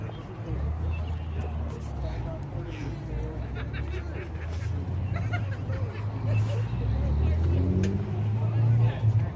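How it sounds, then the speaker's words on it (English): A car approaches at a Cars and Coffee meet, a low engine rumble building steadily louder over several seconds amid crowd chatter and nearby talk. "I hear another car coming."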